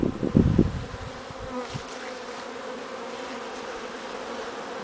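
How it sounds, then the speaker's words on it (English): Honeybees buzz steadily around hives kept in a shed on a warm day, a dense, continuous drone close to the microphone, with a few brief handling bumps at the start. "Lots of bees."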